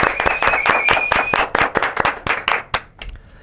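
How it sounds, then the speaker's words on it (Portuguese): A small group clapping for a guest on a talk show or podcast, sharp rapid claps at close range that thin out and slow to a few scattered final claps. "um salve de palmas para o Busnello aqui, galera"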